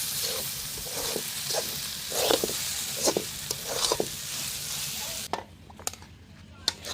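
Potato fry with coriander leaves cooking in a pan, a close sizzle broken by stirring scrapes and clinks before it quiets near the end.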